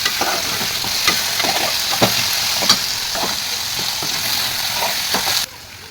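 Potatoes fry in a pan for sabudana khichdi, giving a loud, continuous sizzle with scattered spatula scrapes and taps that stops abruptly near the end.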